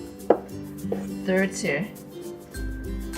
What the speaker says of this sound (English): let's cut the pressed tofu. I'll cut them in half and then into